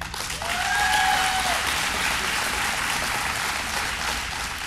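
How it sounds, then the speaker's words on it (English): Audience applause at a governor's funding announcement for a Rochester data science consortium, a dense, steady wash of many hands clapping that holds for several seconds at moderate loudness. "A special round of applause for the renewed Mayor"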